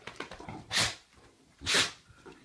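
A dog sneezes twice, each a sharp, loud, breathy burst about a second apart, close by, with soft snuffling in between.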